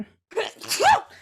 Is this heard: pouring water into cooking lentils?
no